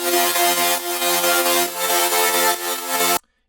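Reverb-washed synth stack for a melodic dubstep drop: bright sustained layered chords pulsing in rhythm, loud and alone, then stopping suddenly into near silence.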